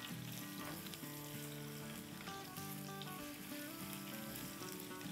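Potatoes fry in hot oil in a pan, giving a steady, dense sizzle with faint crackles and bubbling heard close up, with no talking over it.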